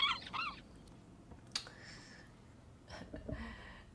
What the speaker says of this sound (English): Oh no, there's more seagulls.